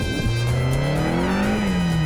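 A red Audi R8 accelerates across a flat clay surface, its engine note climbing steadily in pitch over a couple of seconds, loud and continuous with no talking.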